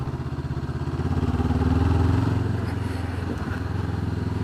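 A Honda CB500X motorcycle engine pulls steadily while riding, its close, throbbing mid-range drone rising slightly and then easing off, with some wind noise and light mechanical clatter.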